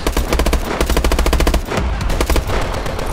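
Rapid automatic gunfire in the futuristic shooter Call of Duty: Advanced Warfare, loud and close, with dense rhythmic bursts of shots running almost continuously and a brief gap partway through.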